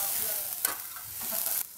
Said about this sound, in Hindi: हम वेजिटेबल डाल देंगे सारे मिक्स वेजिटेबल और इसके साथ में टॉस करेंगे